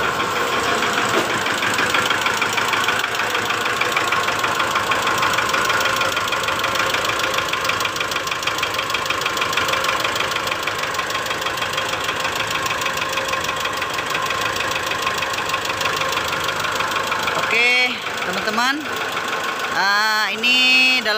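A rough-running Mitsubishi Strada Triton GLS engine idles with a disconnected injector, giving a steady mechanical knocking tak-tak rattle with a faint squeak, loud and close, before brief voices near the end.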